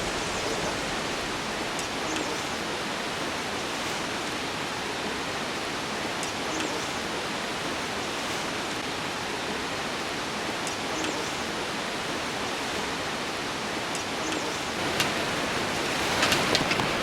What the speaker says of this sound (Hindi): सामने पहाड़ी से बहता झरना नीचे मंदाकिनी में विलीन हो रहा है।